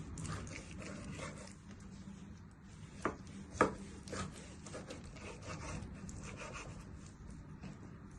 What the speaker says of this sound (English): So you want to chop it into thin strips.